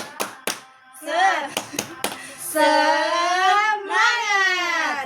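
Classroom students clap a quick 'tepuk semangat' ice-breaker pattern, several sharp close claps in a short rhythm, followed by young voices chanting together loudly.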